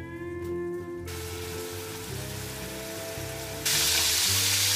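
Salmon fillets sizzle steadily in a hot pan over medium-high heat, a continuous close frying hiss that swells louder near the end, with no talking.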